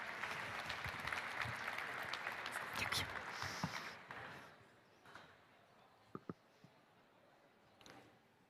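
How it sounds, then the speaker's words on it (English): An indoor audience at a Ukraine support event applauds steadily for about four seconds, then the clapping fades to a few scattered claps and small knocks in a quieter room. "Please welcome Krystyna Fajczak with your applause."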